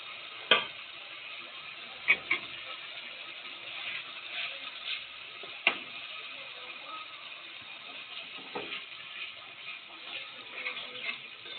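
Cauliflower with spices stir-fries in a pan for kosha, a soft steady sizzle broken by intermittent spatula clicks and scrapes, fairly quiet with no talk.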